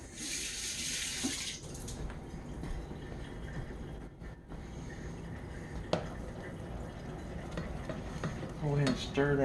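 Cornstarch being stirred into a simmering sauce in a pan, a close continuous wet stirring and scraping with a brief clink partway through, no talk.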